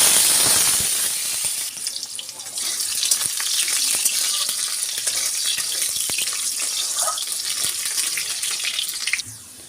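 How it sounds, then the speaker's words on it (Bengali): Potatoes frying in hot oil tempered with whole cumin seeds and bay leaf for a Bengali vegetarian cabbage dish, a loud sizzle at the start settling into a continuous crackling hiss with occasional stirring clicks, no talking. "এরপর আমি এর মধ্যে আলুটা দিয়ে ভালো করে ভেজে দেবো।"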